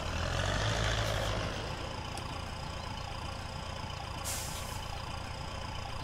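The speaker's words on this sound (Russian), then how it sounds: "Заводится как Урал." In the SpinTires video game, an XPen 8x8 truck engine rumbles into life with a low burst, then settles into a steady idle with a brief hissing release partway through, no speech over it.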